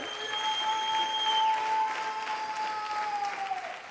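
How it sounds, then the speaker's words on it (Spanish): Congregation applauding in a church service, steady dense clapping throughout at moderate distance with a sustained tonal hum or keyboard note underneath. "denle un aplauso a él"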